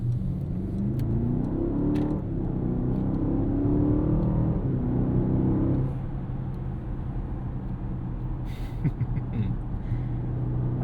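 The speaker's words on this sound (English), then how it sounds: "I just love a good V8." Mercedes-AMG GLE 63S biturbo V8 SUV on an evening drive: a steady low engine drone with a gentle rise in revs, then easing off to a quieter cabin hum with faint road noise and small clicks.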